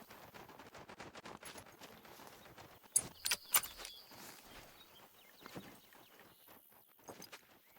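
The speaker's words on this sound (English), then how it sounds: "By the sounds of the trot, I want to say they were wild pigs, swine, porkies." Animals trotting past in theHunter: Call of the Wild, likely wild pigs, a quick run of light, irregular hoof patters moving by at mid distance, with a few sharper louder knocks around the middle and no talk.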